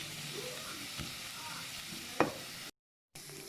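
Onions sautéing in a pot with spoonfuls of pepper paste and tomato paste for ezogelin soup made with chicken stock, a steady low sizzle with a few utensil scrapes and one sharp clink, briefly cut by a gap.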